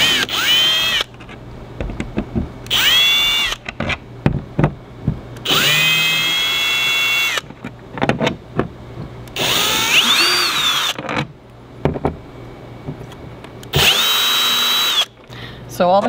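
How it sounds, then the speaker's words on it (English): A power drill removes screws from an RV door window shade, its motor whining in repeated bursts of a second or two, close and loud, with brief pauses and clicks between runs. "I'm going to give her the drill to make it faster"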